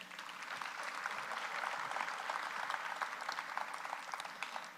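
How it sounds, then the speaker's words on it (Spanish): Conference audience at a national public accounting congress in Barranquilla gives a welcoming round of applause, a dense, even spread of clapping that holds steady and moderately loud for the whole stretch. "Lo recibimos con un fuerte aplauso."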